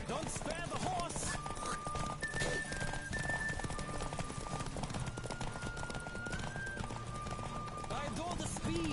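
A horse gallops at full speed in The Witcher 3 video game, with rapid steady hoofbeats throughout, an occasional whinny, music or effects layered beneath, and a voice speaking over it.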